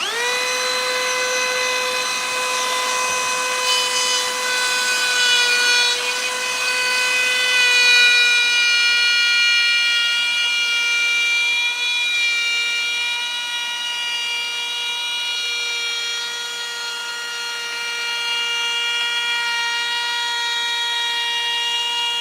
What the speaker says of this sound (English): we're chamfering edges on this acrylic piece for the Bluetooth box